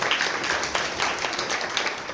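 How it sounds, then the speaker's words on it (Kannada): Children applaud in a steady, continuous round of clapping at a Bible memory verse recital, filling the space closely throughout without a break. "ಎಲ್ಲರೂ ಚಪ್ಪಾಳೆ ಹೊಡೀರಿ."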